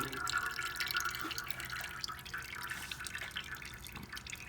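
Engine oil drains from the drain plug of a Can-Am Maverick 1000 into a pan, giving a steady, close trickle and patter of liquid with no talking.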